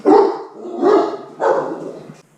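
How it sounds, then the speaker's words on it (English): A dog barks three times in close succession, loud and near, with no other sounds. "so after the dog interruption"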